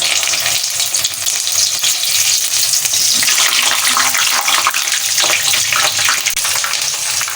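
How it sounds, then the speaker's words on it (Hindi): Capsicum fries in hot oil with a loud, continuous sizzle and spitting crackle, steady throughout with small bursts of popping and no voices. "अब ये देखिए हमारी शिमला मिर्च फ्राई हो रही है।"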